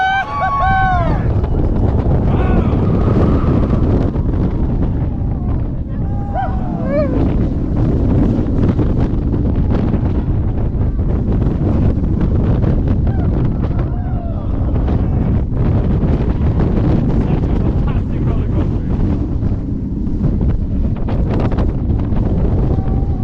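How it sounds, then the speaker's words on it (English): Roller coaster ride on Valkyria at Liseberg in Gothenburg, heard from on board through its first drop: steady, loud wind rush and rumble buffeting the microphone throughout, with a few brief shouts and screams from riders near the start. "First drop of Valkyria."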